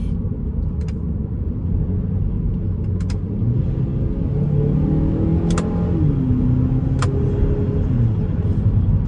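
A 2018 Hyundai Elantra Sport turbo engine accelerating in manual mode with its DCT gearbox, a steady loud cabin rumble with the engine note climbing and stepping between gears and a few faint clicks.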